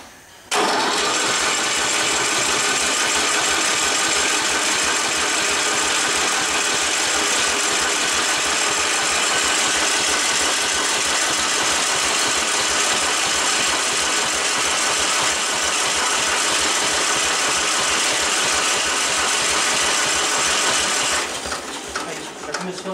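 A Ford 4100 tractor engine turns over on the starter with compression released, a steady, loud mechanical cranking drone lasting about twenty seconds without catching, then cutting off.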